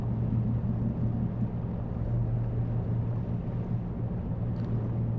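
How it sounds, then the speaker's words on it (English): A ship's engine drones steadily at full throttle in the Seafarer ship simulator game, a loud, even low hum with a rushing wash above it and no break for the whole stretch. "If you listen, I think the engine throttle's up."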